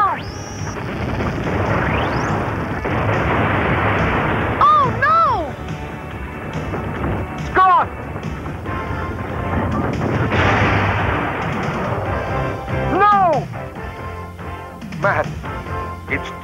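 Cartoon battle scene with sniper gunfire and artillery blasts, a dense roar of booming explosions and rapid shots with whistling whines, loud and continuous throughout.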